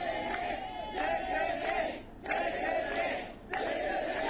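Crowd at a women's pro wrestling match chanting and cheering in rhythmic bursts, several swelling waves of voices with brief dips between them, heard from within the audience.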